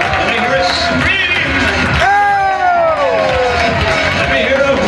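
A large audience at a 2004 talent show finals screams and cheers loudly and continuously, with shrill whoops rising above the dense crowd roar.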